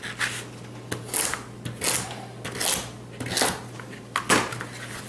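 Big vegetable chunks are dropped into a pressure cooker pot for stock, landing as a series of close, evenly spaced thuds and clatters over a steady low hum.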